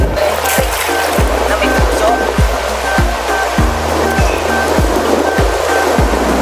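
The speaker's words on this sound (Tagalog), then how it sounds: "So, ito yung wave." Ocean waves wash ashore at Bolinao, Pangasinan, a steady loud surf roar with repeated low thumps, heard near and continuous with a faint voice underneath.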